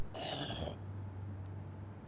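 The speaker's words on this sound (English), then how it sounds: "That man next door hoiks after every time he coughs." A single harsh throat-clearing rasp, close and fairly brief, followed by a low steady hum of room noise.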